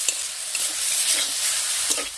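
Green chillies sizzle in a hot pan for a Bengali village-style taro leaf bharta, a bright, steady crackle and hiss with a few stirring scrapes and no voices.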